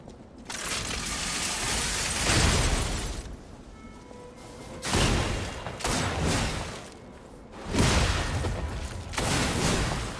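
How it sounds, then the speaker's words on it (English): Enemy gunshots in the action game Lies of P, heavy booming blasts and crashing bursts arriving in several loud waves with quieter metallic mechanism noise between them. "he uses the fucking gunshot to propel himself forward"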